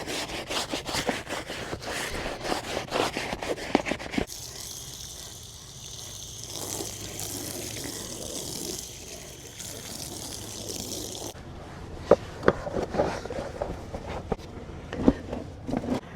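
Rubber Tesla Model 3 floor mats are scrubbed with a brush and rinsed under a water spray; rough rhythmic scrubbing gives way to a steady hissing spray, then more scrubbing with a few sharp knocks.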